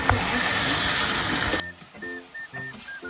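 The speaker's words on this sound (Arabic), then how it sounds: "هلا نقلب الدجاج مع البصل." Chicken and onions frying in a pan, a loud dense hiss and sizzle for the first half that drops away abruptly, leaving quieter sizzling with faint tonal beeps and background sounds.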